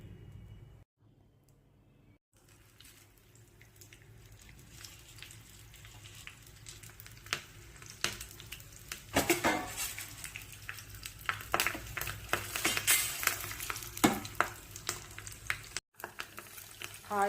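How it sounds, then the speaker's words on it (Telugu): Hot oil crackles and pops as tempering spices and dried red chillies fry, starting quiet and building into irregular sizzling bursts and sharp snaps, close and fairly loud. "ఆయిల్ చిట్టపట్టమని సౌండ్ చేస్తుంది"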